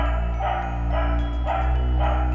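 A dog barking in a Halloween trick-or-treat video game, several evenly spaced barks over a sustained droning game music bed, with no talking.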